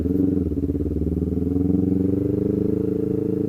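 A motorcycle engine idles close by after a service, a steady low throbbing rumble with a fast even pulse that holds at a constant level throughout.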